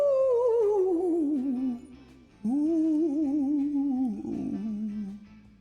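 A human voice imitates a ghost's moan, drawing out a wavering 'ooh' that glides downward twice in long, loud, close sustained tones, with a short gap between them.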